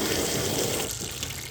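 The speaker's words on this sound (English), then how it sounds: "You'll see it, just a tiny little trickle." A tiny trickle of water runs out of a torn-apart furnace with a cracked heat exchanger, a close, continuous splashing rush that eases slightly toward the end.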